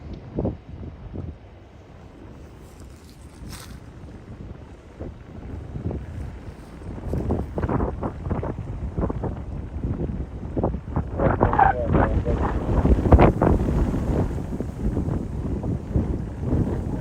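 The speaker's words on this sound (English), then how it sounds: "You guys hear that wind ripping up?" Strong wind gusting outdoors in Oklahoma City, a steady broadband rush that builds louder in the second half with buffeting microphone noise and no clear speech.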